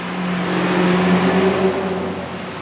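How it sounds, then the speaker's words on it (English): A passing truck on the road sends up a steady engine drone with a low tonal hum that swells slightly and then eases off as it goes by, close and continuous with no talking. "Let that truck go by here."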